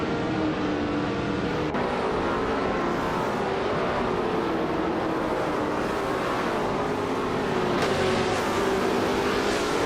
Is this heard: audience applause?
no